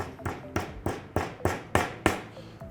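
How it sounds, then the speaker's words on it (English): Gentle, evenly spaced hammer taps starting a nail into stacked wooden boards, about eight light strikes in steady rhythm, close and clear with no talking. "Start the nail, tap it gently till it's started"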